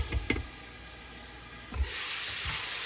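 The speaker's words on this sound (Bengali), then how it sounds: "তেলে 5 ফোড়ন একটু গরম করে নিয়েছি, তারপরে করলাটা দিয়ে দিলাম" Bitter gourd goes into hot oil tempered with five-spice, giving a few soft knocks followed by a faint, steady hiss and sizzle. It is quiet and heard without talk.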